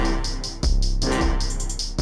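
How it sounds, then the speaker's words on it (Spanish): A trap beat plays on its own, with crisp repeating hi-hats over deep booming kicks and a low bass line. "Bueno, y así es como se hace trap."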